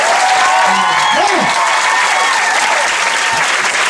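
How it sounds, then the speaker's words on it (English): Steady, loud audience applause at a stand-up comedy show, continuous clapping with a faint voice or whoop rising briefly over it. "I think they deserve a round of applause in advance"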